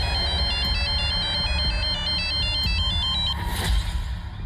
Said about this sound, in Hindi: उस दिन परी का फोन आया था मुझे